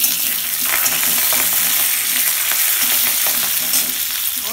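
Curry leaves spit and crackle loudly in hot oil with peanuts over a low-medium flame, a close, dense, steady sizzle with sharp popping bursts throughout.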